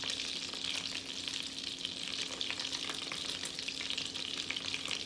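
Butter and olive oil sizzle steadily in a hot pan, a constant close crackling hiss with faint stirring, no one speaking over it.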